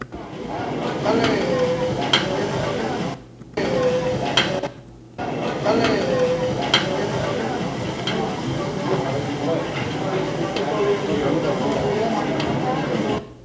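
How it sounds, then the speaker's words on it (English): Busy taco restaurant bustle with steady chatter, clinking dishes and utensils, and kitchen clatter of cooking and chopping on the grill throughout, briefly dropping out twice before resuming. "The sound of the taco spot, the ambiance of the restaurant."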